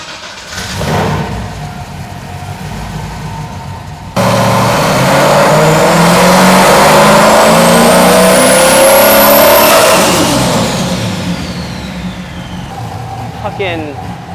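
A Nissan 240 with a swapped LS1 V8 cranks and fires, then revs hard as a rising turbo whine climbs over the engine before falling away, loud and close.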